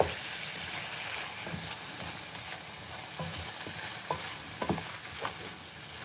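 A spoon stirs and scrapes browned fond off the bottom of a frying pan while Cajun chicken sizzles underneath, the steady frying hiss broken by several sharp scraping knocks toward the end, close and quiet with no talk.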